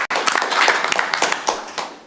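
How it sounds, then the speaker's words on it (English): An audience at a city commission meeting gives a round of applause, a brisk burst of overlapping claps that holds steady and fades out after about two seconds. "Again, one more round of applause."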